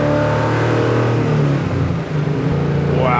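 A 750 hp 1970 Plymouth Cuda engine revs high and loud, a strong sustained roar that rises in pitch toward the end, heard up close from inside the car.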